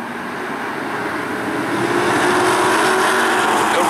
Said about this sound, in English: Here they come, rumbling to the line.